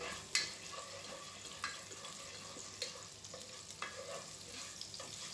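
Garlic, ginger and onion sizzle softly in olive oil for a Filipino macaroni sopas, a steady quiet frying hiss broken by occasional spoon scrapes and taps against the pan.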